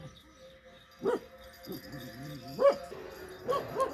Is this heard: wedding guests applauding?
no